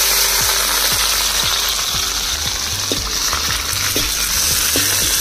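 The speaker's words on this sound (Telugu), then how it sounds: "పచ్చిమిర్చి చూడండి మంచిగా ఫ్రై అయిపోయినాయి ఒక దెబ్బకి" Onions and green chillies frying in hot oil in a kadai over a wood fire, a steady loud sizzle with repeated scraping stirs from a ladle.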